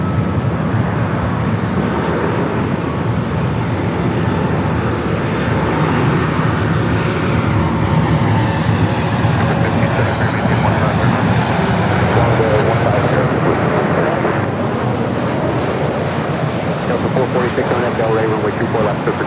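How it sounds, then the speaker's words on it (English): Jet airliners at Los Angeles International Airport, an Alaska flight and a Delta A350 heavy, produce a steady, loud broadband roar throughout, with no breaks, as an engine rumble passes close by. "we got that Alaska flight coming in next, followed by that Delta Heavy A350"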